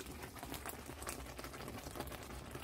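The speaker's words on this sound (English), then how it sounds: "I'm really going to have to turn it down because it's starting to splash." Sausage milk gravy bubbling hard in a pan, dense popping and spattering crackles close by with no talk.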